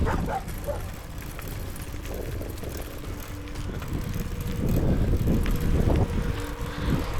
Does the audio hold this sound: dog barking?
yes